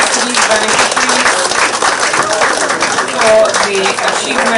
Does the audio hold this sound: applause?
yes